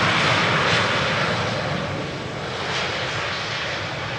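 A fixed-wing airplane passes overhead near Amsterdam Schiphol Airport on a sunny day, a loud broadband engine roar that swells and eases slightly across a few seconds, with no speech over it.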